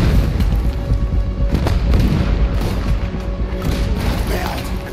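Heavy booming blasts roll through a dense, noisy Red Dead Redemption 2 game soundscape, with repeated low thuds like cannon fire and some faint voices underneath.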